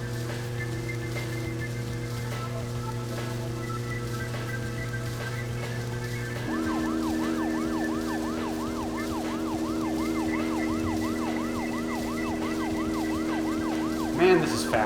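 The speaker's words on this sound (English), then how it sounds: "I guess I can use the siren to get past red lights." A police car siren in the video game Deadly Premonition, starting as a steady tone and then switching to a rapid, even wailing cycle that continues over a constant engine drone.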